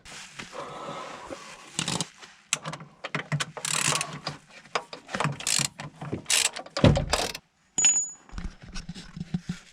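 Ratchet wrench clicking while loosening bolts on the starter motor of an R50 Mini Cooper: bursts of rapid metallic ratcheting and clanks, start-stop in irregular runs, close and fairly loud.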